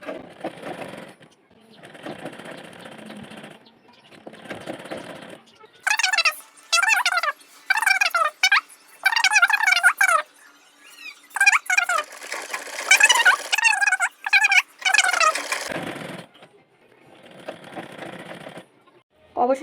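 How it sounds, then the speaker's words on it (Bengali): A sewing machine stitches thin piping onto the side edge of a kameez in several loud, fast, close bursts of mechanical chatter, with someone talking before and after the stitching. "প্রথমে ঠিক এইভাবে একটা ভাঁজ করে এর উপর দিয়ে সেলাই টেনে নিতে হবে।"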